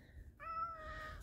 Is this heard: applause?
no